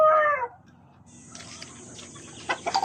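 A Boston Roundhead gamecock rooster gives a short, close, loud crow at the start, then fainter clucks and rustling follow over a steady background hiss.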